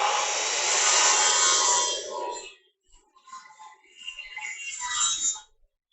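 A circular saw rips through a wooden board along a marked line, a loud, steady cutting roar for about two seconds that stops abruptly, followed by softer scraping and shuffling of wood and handling noises.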